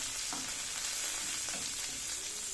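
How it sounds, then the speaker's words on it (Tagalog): Bitter gourd and onion sauté in hot oil left from frying hotdogs, a steady close sizzle and hiss running throughout with a few soft stirring scrapes and clinks. "Dito ko na igigisa yung aking ampalaya."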